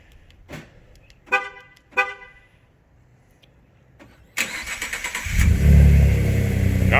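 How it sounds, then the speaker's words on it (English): A 2015 Ford F150 EcoBoost fitted with an SPD catback exhaust is started by remote: three short horn chirps, a pause, then the engine cranks and catches into a steady low rumble nearby. "I'm gonna do just a remote start real quick so we can hear what it sounds like for the first time"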